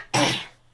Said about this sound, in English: There's the coughing again.